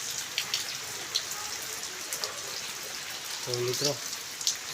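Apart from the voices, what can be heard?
rain falling in a village during monsoon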